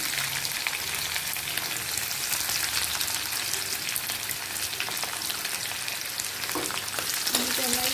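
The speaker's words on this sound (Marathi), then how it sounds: "आता आपण कांदा कट केलेला कांदा टाकून घेऊया" Chopped onion sautés with garlic and chili in a pan over low flame, producing a dense, constant crackling sizzle throughout, with a few faint utensil clicks near the end.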